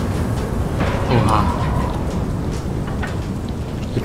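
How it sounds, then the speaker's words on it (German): Steady rain and a low, rumbling thunderstorm from the post-apocalyptic video game Far: Lone Sails form a dense, constant wash of noise, with a faint tonal swell partway through. "Ich sehe doch das Gewitter schon kommen."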